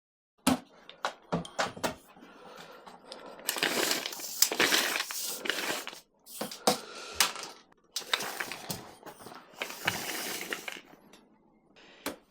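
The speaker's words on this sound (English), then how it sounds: "We're going to break out a tape measure." A tape measure is pulled out along a kayak paddle, with sharp clicks and rattles followed by longer rasping, scraping stretches of the metal blade sliding, repeated several times close up with no talk.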